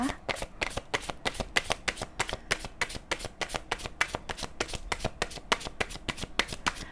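Tarot cards are shuffled in a fast, steady riffle of crisp, close papery slaps repeating throughout, with no talk.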